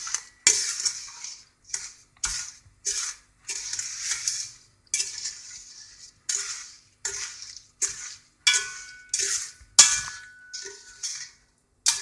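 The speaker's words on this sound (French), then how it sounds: "on prend notre spatule et on touille pour mélanger le sucre à l'eau" A spatula stirs sugar and water in a pan for chouchous, giving repeated close scraping and clinking strokes in a fairly regular rhythm with brief pauses between them.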